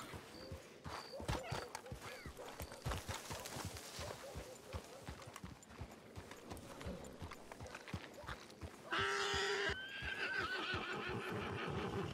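A horse whinnies close by amid clip-clopping hooves and faint rustling, with a louder neigh near the end.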